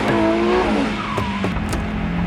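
A new car on a road test drive, its engine rising in pitch as it speeds up, with a brief tire-squeal-like whine partway through; the car's accelerator is faulty and its brakes fail.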